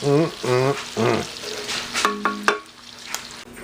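Onions and minced garlic fry in a pan for a haluski dish, giving a steady sizzle with a few sharp stirring clicks toward the end, close and fairly loud, mixed with tonal background sound.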